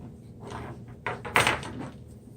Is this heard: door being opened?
yes